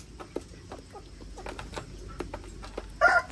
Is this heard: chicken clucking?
yes